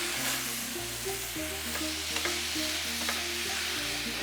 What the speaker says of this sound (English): So I'm just going to brown this for a few minutes.